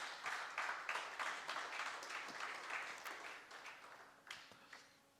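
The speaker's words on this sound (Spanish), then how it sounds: "Dele un aplauso al Señor," Church congregation applauding during a Spanish-language sermon, a steady wash of many hands clapping at moderate distance that fades toward the end.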